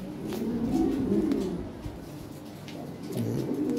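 Breeding pigeons coo in a loft, low rolling calls rising and falling over a steady background hum, moderately close but soft.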